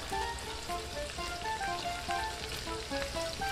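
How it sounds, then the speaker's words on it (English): Onions sizzling gently in a pan on low heat, a steady crackling fry with close, even texture and no voices. "Low heat, and then at the same time, we'll add our onions into this."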